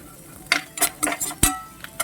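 Palapalam seed poriyal is stirred and fried in a pan, with a metal spoon giving sharp, irregular clinks and scrapes against the pan over a faint background hiss.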